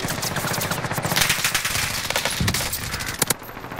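Rapid bursts of automatic gunfire from the video game Call of Duty: Modern Warfare rattle continuously, with a few sharper single shots near the end, loud and close.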